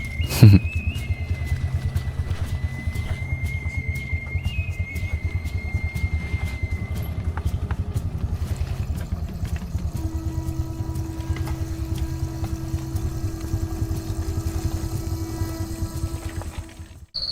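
Motorcycle engine working down a difficult dirt track through a plantation, a continuous low rumbling drone with shifting tones and a rising whine partway through, close and steady.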